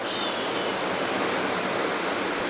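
Ocean waves heard from the deck of a Norwegian Escape cruise ship, a steady broadband wash of water and surf filling the whole moment, fairly loud and continuous with no voices.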